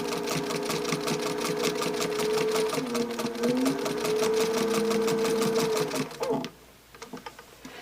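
A sewing machine stitches binding onto a placemat corner in a steady, rapid mechanical whir that runs for about six seconds, then stops, leaving a few faint clicks and handling sounds.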